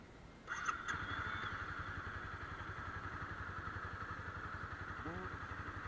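A Honda CBR250R motorcycle engine starts with a brief starter whine and catches into a steady close idle with a rapid even pulse, faint voices under it.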